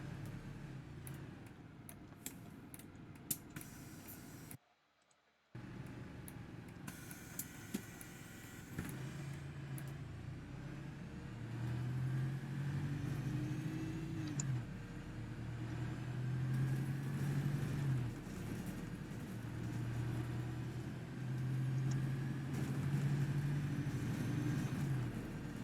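A double-deck bus driven quickly along a town route in OMSI 2 gives a low, steady engine drone with rising and falling revs, fairly quiet, with a short cut to silence early on.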